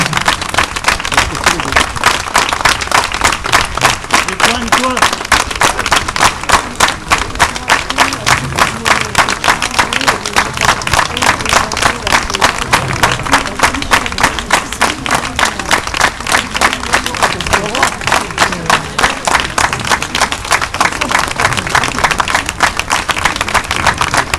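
Audience applause at a hospital union gathering, a dense, steady round of clapping sustained for over twenty seconds, loud and close, with faint crowd murmur underneath.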